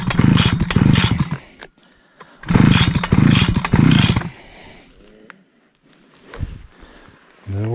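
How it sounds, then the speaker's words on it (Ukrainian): A petrol brush cutter with a starting fault sputtering into life, rough engine bursts rising and dying twice, then quieter clattering attempts and a final catch, close and loud. "Заводиться. Диркать, доки заведеться."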